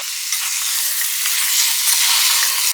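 Chicken biryani masala sizzles and fries steadily in a pan as it is stirred, a continuous close hiss with soft scraping, rising slightly toward the end.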